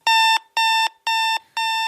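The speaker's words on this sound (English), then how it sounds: "Your alarm is designed to shock you awake" An alarm clock rings in four loud, evenly spaced electronic beeps, each a bright sustained tone of about a third of a second separated by short silences, heard alone and close.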